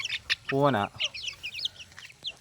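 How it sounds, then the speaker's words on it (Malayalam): Chicks peep in quick, high, scattered chirps, with a short lower clucking call near the start. "ഇതാണ് നമ്മുടെ കോഴിക്കുഞ്ഞുങ്ങൾ"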